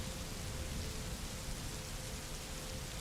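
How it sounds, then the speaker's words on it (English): Steady rain falling during a thunderstorm, a dense, even hiss of downpour that continues unbroken and fills the background, with no voices. "I just noticed it's actually raining in the background."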